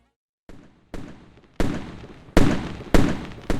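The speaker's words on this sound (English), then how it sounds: "the fireworks that pop can still be heard during the load screen" Fireworks popping at the end of a level in the video game Lost Orbit, five or six sharp bursts arriving at irregular intervals and growing louder, each with a crackling decay, with no voices.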